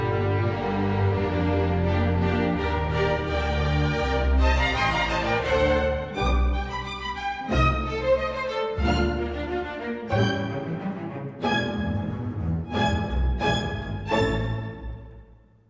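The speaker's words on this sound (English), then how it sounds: "Together, the string section sounds like this." Orchestral string section playing together, full sustained chords and phrases with a rich layered tone, ending in a few separate plucked or struck chords that fade out, no talking.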